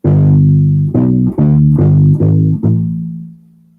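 A deep plucked U-Bass acoustic bass guitar plays a short line of about six notes, each attack clear and resonant, ending on a sustained low note that fades.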